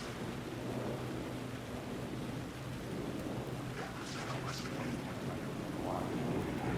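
Steady rain pours in a dark city street in the video game Alan Wake 2, a continuous wash of downpour with a low rumble of thunder beneath it, no voices.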